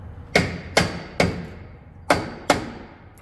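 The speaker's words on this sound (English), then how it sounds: "Sometimes you gotta shock things with a hammer." Five sharp hammer blows on a truck transfer case part during repair, unevenly spaced and ringing briefly, close and loud with no talk.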